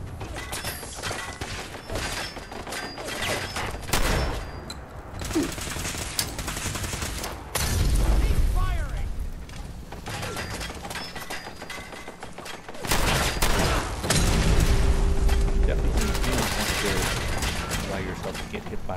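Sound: grenade explosions and gunfire in video game Fallout 4

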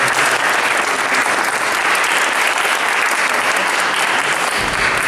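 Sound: audience applauding at photography awards

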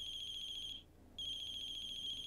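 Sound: telephone ringing in a video game (The Closing Shift)

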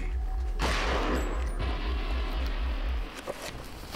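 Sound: shotgun gunshots in video game Eternal Darkness

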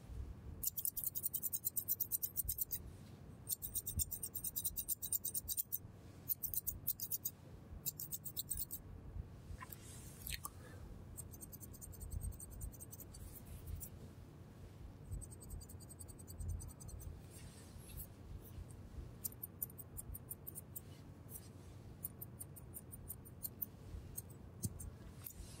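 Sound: scissors cutting eyelashes, ASMR roleplay

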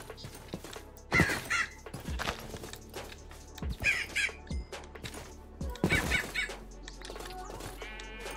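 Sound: bird calling in Minecraft (video game)

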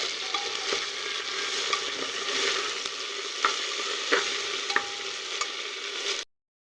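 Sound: stirring cumin, ginger and garlic paste in a pan

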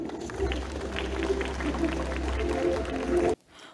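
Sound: applause welcoming the deputy director on stage

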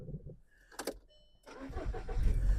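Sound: Volkswagen Caddy 1.6 MPI engine running

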